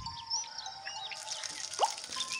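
Cartoon sound effect of watering freshly planted wheat and corn seeds in a children's educational farm scene: light, fairly faint dripping plops with a bright sliding chirp near the end, no voices.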